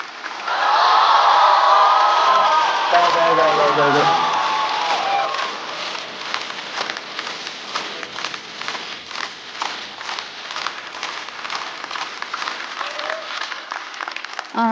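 A stand-up comedy audience bursts into loud applause and cheering that swells for several seconds, then thins into scattered, irregular claps and footsteps as a performer walks onstage, with a brief spoken word near the end.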